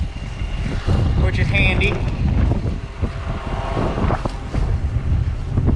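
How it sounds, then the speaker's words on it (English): Strong wind gusts outdoors buffet the microphone with steady low roaring and rumbling, while someone talks continuously over it in the foreground. "the damn wind never stops blowing"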